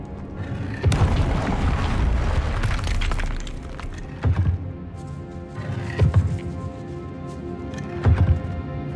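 Fire blast spell explosions in the Hogwarts Legacy video game: a loud booming blast with a shattering crackle, then several shorter thumping bursts following at intervals, with no talking.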